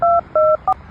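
Three short telephone keypad tones beep in quick succession, loud and clean, the last one briefer than the first two, with nothing else around them.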